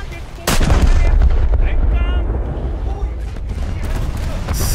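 Heavy shellfire booms in a naval combat game, with a loud burst of cannon blasts at the start, then sustained rumbling explosions and muffled impacts continuing throughout.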